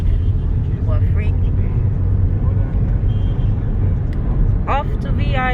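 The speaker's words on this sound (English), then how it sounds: "So these are the buses crossing the bottleneck." Buses crawl through a congested traffic bottleneck in Lagos, a steady low engine rumble heard close from inside a vehicle, with a voice and brief horn-like tones near the end.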